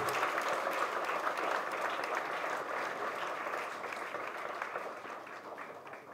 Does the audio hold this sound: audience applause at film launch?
yes